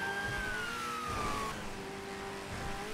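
Car engine in the video game GTA 5, a loud continuous drone whose pitch slides downward as the car slows, with a faint squeal over the rumble.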